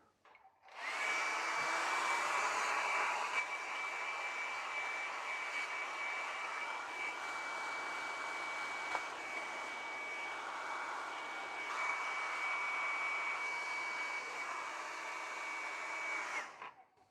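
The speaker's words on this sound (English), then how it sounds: "I am actually going to go for a hairdryer" A hairdryer runs continuously near the mic, blowing steady broadband air with a thin whine, used to heat a ZX81 computer keyboard during a repair; it switches on, holds for about fifteen seconds, then cuts off.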